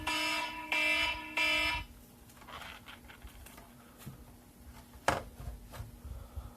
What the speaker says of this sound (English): I love setting alarms for myself and forgetting about them.